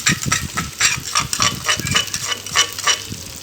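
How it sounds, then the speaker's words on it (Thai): Rhythmic scraping of a spatula stir-frying curry paste in hot oil, with a soft sizzle underneath, close and fairly loud, about three strokes per second. "ใส่พริกแกงแล้วก็จะผัดให้หอม"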